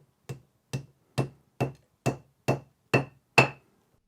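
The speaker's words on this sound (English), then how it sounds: "So now we'll take the little hammer" A small hammer taps a fixing into a hole drilled in a wall, eight crisp, evenly spaced knocks at close range, each a little louder than the one before, with silence in between.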